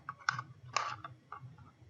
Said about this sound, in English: I am going to use my scissors to cut out the ears. And it's kind of fun cutting cardboard.